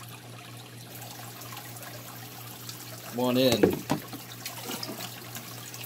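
Water pours steadily back into a tank during a water change, a continuous trickle and splash that swells midway as a voice speaks briefly.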